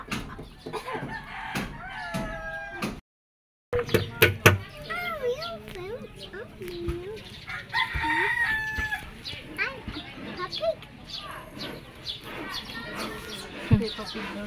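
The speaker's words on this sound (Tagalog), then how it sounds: "May sisiw daw." Chicks peeping outdoors with repeated high thin chirps scattered throughout, mixed with rooster-like fowl calls while children and adults talk nearby and one brief silent gap breaks the scene.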